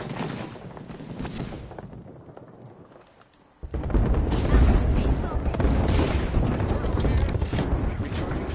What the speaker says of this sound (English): Got a hit with a grenade.